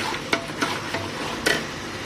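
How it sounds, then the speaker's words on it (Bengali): Tomatoes sautéed and stirred in a pan for Afghani pulao, a soft steady sizzle with a few light scrapes and taps of the spoon against the pan, close and alone. "ভালো করে কষে নিতে হবে। টমেটোগুলো গলে গেছে,"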